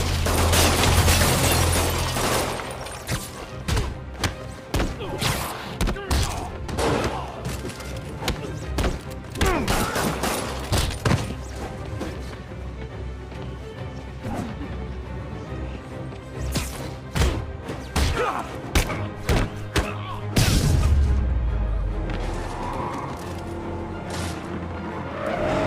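Gunfire, crashes and heavy thuds from a street fight in the Spider-Man PS4 video game, a loud, continuous jumble of impacts, bursts and booms with game music, ending in a big low crash near the close.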